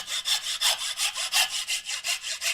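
A hand saw cuts through bamboo-like wood while a danso flute is being made, following the grain; steady rhythmic back-and-forth strokes, about a dozen, close and fairly loud, with no talking.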